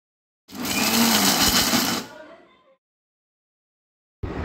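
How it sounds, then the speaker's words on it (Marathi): A mixer grinder coarsely grinds roasted spices in a jar, a loud dense whirring burst of about one and a half seconds that trails off and stops, with a brief restart near the end. "आता एका मिक्सर जारमध्ये ह्या ज्या सगळ्या भाजलेल्या वस्तू आहेत हे आपण एकत्र करून जाडसर असं आपण हे वाटून घेणार आहोत."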